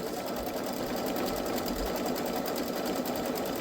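Baby Lock Solaris embroidery machine stitching out a pumpkin pillow design in gold thread, a steady, fast, loud mechanical whirr with rapid regular needle strokes running continuously throughout, no voices.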